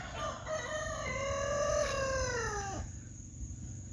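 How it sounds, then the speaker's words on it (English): A single long rooster crow rises and trails off, loud and close, over a steady low background rumble. "And my neighbor's obnoxious rooster."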